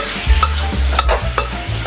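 Seafood chow mein with squid is stirred and tossed in a hot pan, a spatula scraping in quick strokes over a steady sizzle, close and loud, with no talking.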